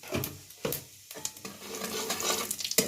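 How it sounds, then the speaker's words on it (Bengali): Cumin seeds crackle in hot oil in a pan, a close, quiet sizzle broken by a few sharp stirring scrapes and pops. "এর মধ্যে আমি সামান্য জিরে ফোড়ন দিয়ে দেবো"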